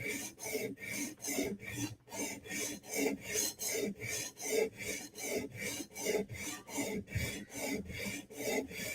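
Steady back-and-forth rasping of a file shaping the bevels on a soft steel blade, a quick regular rhythm of close, even strokes that runs throughout with no talking.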